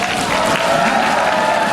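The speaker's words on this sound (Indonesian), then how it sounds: "Tepuk tangan sekali lagi." A dense burst of audience applause at a presidential-candidate convention debate in Bali, many hands clapping loudly and continuously in a crowded hall for nearly two seconds with no speech.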